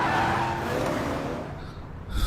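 A car, in this case an ambulance rushing through traffic, roars past fast with a brief squeal of tires. The sound is loud and close and fades slightly toward the end.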